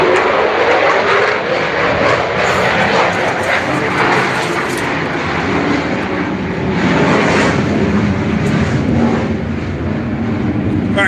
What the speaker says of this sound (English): Fighter jets taking off. F-16s are right, 50 feet away from my shop right now.